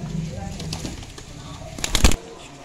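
A batera pigeon coos softly and then beats its wings in a short, close flurry, with someone talking over the sounds.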